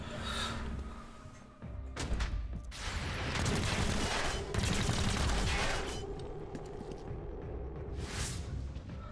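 Squad members on Overwatch firing in the tactical video game Chimera Squad: several rapid bursts of gunfire with thuds and impacts, loud and dense for a few seconds, then easing into quieter ambient game sound.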